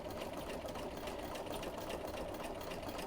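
A sewing machine runs continuously, stitching a quarter-inch seam on a quilt block, a close, even mechanical whir with rapid needle clatter and no pauses.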